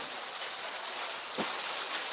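Rain falling in Mymensingh, Bangladesh, a soft, steady hiss of drops that stays faint and even throughout, with one brief low thud near the middle.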